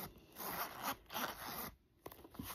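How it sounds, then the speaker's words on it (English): A zipper on a Kate Spade wallet is pulled in a few quick, scratchy strokes, close up and fairly quiet, with a short pause before the final tugs. "I like the zipper."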